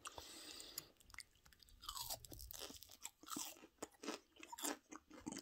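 Someone close by chews and crunches microwave-heated marshmallows, with quiet, irregular bites and mouth sounds and no talk.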